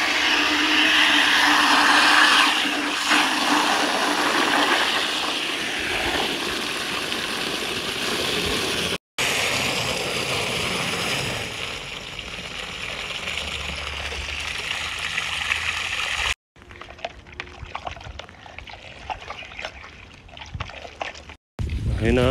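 Water rushes and sloshes as pesticide is mixed into about ten litres of water, a continuous loud splashing and pouring with breaks and a person talking briefly.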